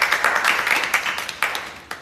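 Audience clapping to welcome NCT DREAM's designer back during a livestream, a brisk burst of many hands, fairly close and loud, thinning out toward the end.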